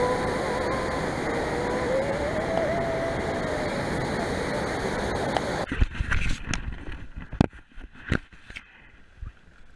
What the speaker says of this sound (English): driving and saw a waterfall, so here it is